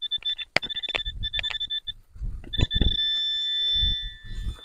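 A metal detector sounds a series of sharp high electronic beeps, some short and repeated, others held longer, over soft scraping and digging thumps beneath a poplar tree.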